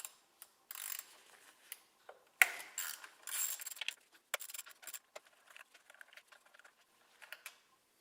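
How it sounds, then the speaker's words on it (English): A 1/4 inch ratchet with a 10mm socket loosening coil nuts on a 2012 Acura TL: quick dry clicking bursts, close and fairly faint, in irregular runs with short pauses between strokes. "With a 10mm socket and a 1/4 inch ratchet, you can remove the 3 nuts holding the coils in place."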